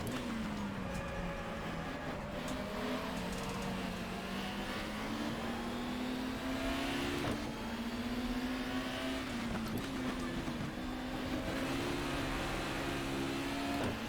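A 1994 BTCC touring race car in the GTR 2 video game labours uphill at Brands Hatch GP, its engine note droning and slowly rising under strain, with other cars' engines layered in the background throughout.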